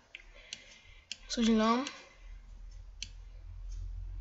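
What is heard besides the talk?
computer mouse clicking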